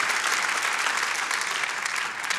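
A church congregation applauds during a sermon, producing a dense, even patter of many hands clapping throughout a brief stretch with no voice over it.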